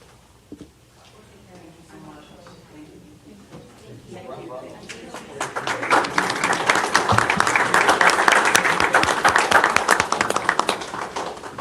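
At a city commission regular meeting, quiet murmuring and speech give way to a swelling round of applause that builds to a loud, dense patter of clapping and holds for several seconds.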